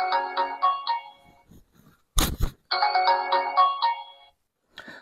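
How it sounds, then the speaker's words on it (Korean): Notification ringtone of a QCY GT smartwatch: a bright, bouncy electronic melody plays twice, split by a short thump, clear and close in a quiet room. "그런데 이 알림이 올 때 진동만 울리는 게 아니고 좀 약간 좀 살짝 좀 경박하게 느껴질 수 있는 그런 벨 소리가 나요"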